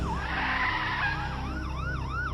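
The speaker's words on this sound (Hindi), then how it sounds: "पीछे से पुलिस की गाड़ी सायरन बजाते हुए आती है" A police car siren wails, rising and falling repeatedly, quickening into a fast yelp over a steady low engine rumble, fairly close.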